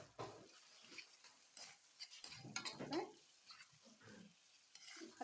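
Chicken frying in a pan with peppers and leek, giving a faint sizzle broken by soft stirring scrapes and a few light utensil clinks, close but quiet with no talking.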